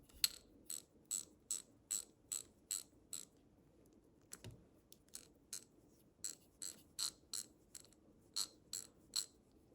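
A freshly greased Popular Mechanics ratchet clicks steadily as it is turned, producing two runs of crisp, fairly quiet, evenly spaced clicks separated by a brief pause with a single soft knock.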